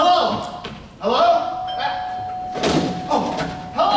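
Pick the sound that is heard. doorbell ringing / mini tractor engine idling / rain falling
doorbell ringing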